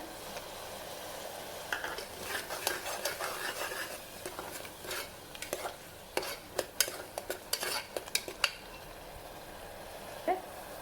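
Ginger garlic paste stirred and frying in a pan for tomato rice, with a steady soft sizzle under repeated scraping and clinking strokes of a spoon against the pan, fairly close and moderately quiet.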